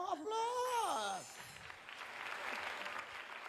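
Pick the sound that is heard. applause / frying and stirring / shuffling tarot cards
applause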